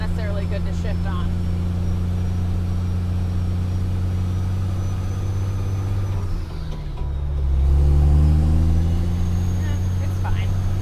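A Kenworth T800 dump truck engine drones steadily up a steep grade, then dips and swells into a louder over-rev near the end, low and close throughout.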